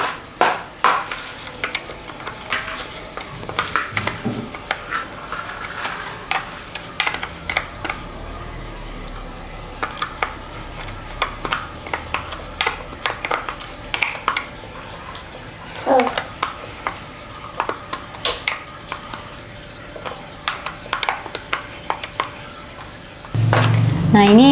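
Chia seeds being stirred into water in a lidded container make intermittent scraping and tapping clicks, with soft liquid swishes in a quiet room and a louder clatter near the end.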